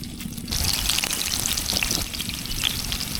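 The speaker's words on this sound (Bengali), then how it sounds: "বন্ধুরা, চিংড়ি মাছের বড়াগুলো ভাজা নিচ্ছি।" Shrimp fritters fry in oil, a steady bubbling sizzle with scattered pops and crackles that starts suddenly after a quiet moment and stays fairly close and loud.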